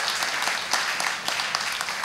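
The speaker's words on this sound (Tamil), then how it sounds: "எல்லாரும் உற்சாகமாக ஒரு முறை கைத்தட்டுவோமா?" Church congregation clapping their hands together in a lively, steady patter of many hands at middle distance, brief and even, with no talk over it.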